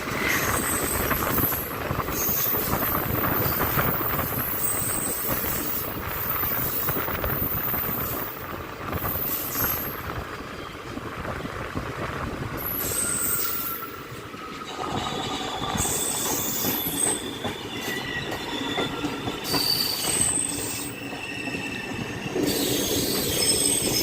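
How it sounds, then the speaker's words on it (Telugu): The Bhubaneswar–Pune Express rushes past on the opposite track with a loud continuous rumble, rattling wagons and squealing wheels, heard close from a neighbouring train and without talk. "ఇది భువనేశ్వర్ నుండి పూణే అయితే వెళ్తుంది. భువనేశ్వర్ పూణే ఎక్స్ప్రెస్."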